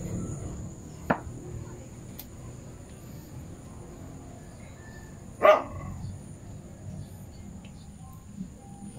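A dog gives two or three short, sharp barks, one louder and nearer than the others, spaced apart over a quiet background of faint insect and bird sounds.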